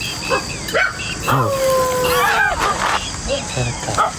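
Street dogs bark and yelp at a passing stranger, several short high cries and a drawn-out whine in quick succession, close and loud, with a voice talking between them.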